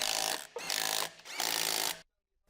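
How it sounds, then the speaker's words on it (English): Electric impact wrench with an 18mm long socket hammers on the wheel hub bolts of a 2013 Jeep Wrangler JK, three loud close bursts of rapid rattling separated by short pauses, then silence. "Use the 18mm long socket with an electric impact wrench to tighten the wheel hub bolts"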